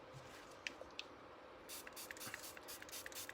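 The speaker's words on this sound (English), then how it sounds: "I'm just giving it a really good spritz so it's nice and wet" Spray bottle spritzing ink over a stencil, a quick series of soft hissy pumps, close and quiet, with no talking.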